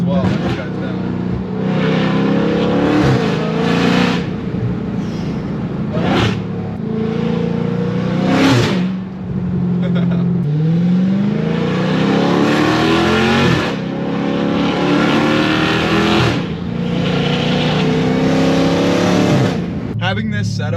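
A Dodge Hellcat V8 fitted with Valvetronic Designs universal mufflers, valves open, roars loud and close as it revs and accelerates through repeated climbs and sharp shift cuts, its deep exhaust note rising and dropping over about twenty seconds.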